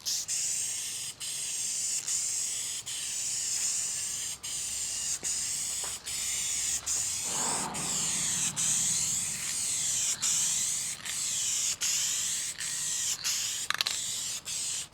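A spray can hisses in repeated long bursts, broken by short pauses, while a second coat of paint goes onto a guitar body. The spray is steady and close, with a brief lower rustle midway.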